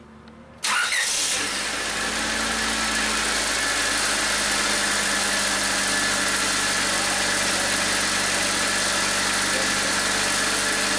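A 2000 Honda Civic engine starts after a head gasket replacement, catching with a brief crank and settling into a steady, close, continuous idle hum with no talk over it.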